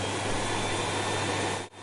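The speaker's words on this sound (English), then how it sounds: "When Sarah brought out the vacuum cleaner, I stood my ground." A vacuum cleaner runs with a steady, loud, even roar that cuts off abruptly just before the end.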